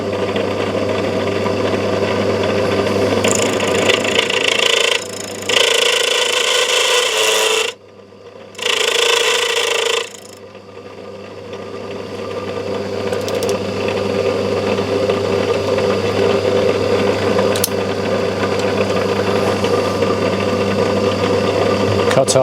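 A cutting tool on a lathe grinding and scraping steadily around a threaded nut for a hi-fi speaker stand, with a constant motor hum and a couple of short pauses, while a person talks over the work.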